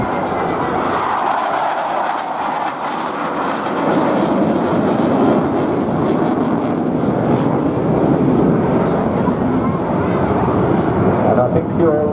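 A Saab Draken jet fighter flying at an airshow gives a loud, broad, continuous roar that swells and holds steady as it passes.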